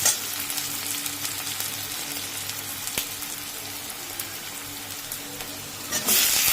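Meat sizzling in plenty of oil in a pan for a hot soup, a constant crackling fry with soft stirring scrapes throughout and a louder burst near the end, no speech.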